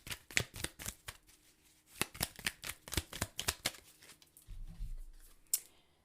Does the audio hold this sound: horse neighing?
no